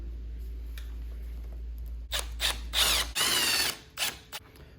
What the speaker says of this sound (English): I'm gonna put the longer bolt over here because that's the one our mirror is gonna mount to